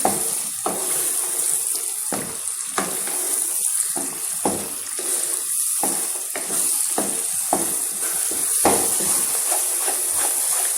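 Chopped dates and almonds roasting in ghee over medium heat for a sugar-free halwa give a steady sizzle, broken by repeated scraping stirs of the pan, with no one talking.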